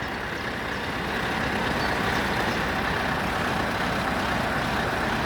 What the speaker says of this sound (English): Yeah, I like trucks.